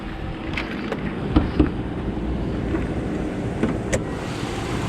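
A 2014 Jeep Grand Cherokee Summit idles steadily after starting, a low even engine hum with several short clicks and taps scattered over it.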